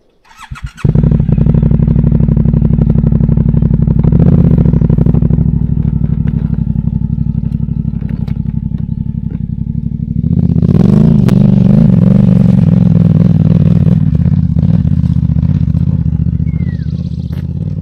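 A motorcycle engine starts with a clatter and then runs at a loud, steady drone. Partway through it grows rougher and stronger as the bike climbs a set of steps.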